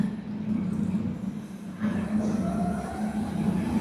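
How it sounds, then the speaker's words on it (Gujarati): A train arriving at a station near Schwerin, Germany: a steady low rumble and rolling hum that swells midway as it draws closer, with faint squealing overtones. "બસ ટ્રેન આવે છે."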